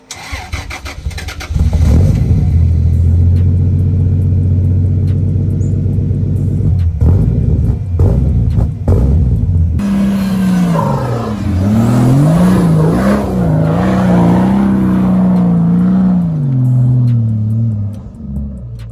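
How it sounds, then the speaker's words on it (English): Turbocharged Toyota 80 Series with a 1FZ engine and 3-inch stainless exhaust starts up and idles with a loud, steady rumble, then revs repeatedly in rising and falling swells, close to the microphone with no talking. "This 80 series also has a 3-inch stainless exhaust all the way through."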